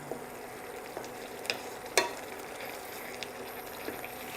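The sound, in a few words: yogurt masala frying in ghee while stirred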